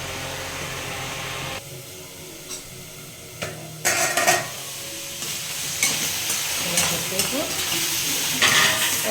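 Peanuts dry-roasting in a pan are stirred and scraped repeatedly, rattling and rustling close by over a low sizzle. The strokes grow busier and louder toward the end.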